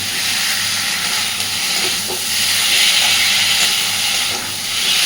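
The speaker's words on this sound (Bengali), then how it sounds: "খুব ভালোভাবে নেড়ে নেড়ে সব কিছুকে কষিয়ে নেব" Stingray fish curry with potatoes and ground spices being stirred and sautéed in a pan gives a loud, continuous close-up hiss and sizzle, alone without any voices.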